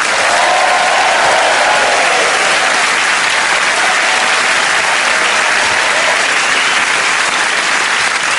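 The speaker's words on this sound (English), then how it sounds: "Please, ladies and gentlemen, build up your applause" Loud, sustained applause from a London comedy club audience welcoming a stand-up comedian on stage, a thick continuous roar of clapping that fills the room without a break.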